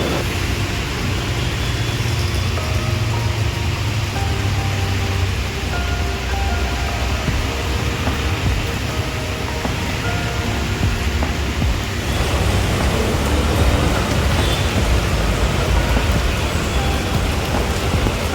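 Heavy rain pours steadily onto a street in Panvel, a loud continuous hiss and patter throughout with no talk, growing slightly denser in the later part.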